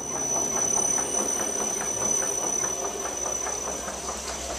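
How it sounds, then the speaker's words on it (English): A pump moves Petite Sirah wine from a horizontal screw press pan into a holding tank, giving a steady mechanical hum with soft rhythmic pulsing and a constant high whine throughout. "the wine is coming down into the pan and then being pumped"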